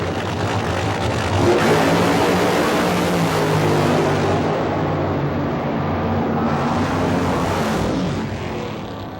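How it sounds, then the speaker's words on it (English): A 1987 funny car drag racing pass at an NHRA or IHRA national event, about 264 mph: a loud, sustained engine roar that builds and then recedes as the car tears down the strip, with no talk. "John Brute Force takes that one, a great pass"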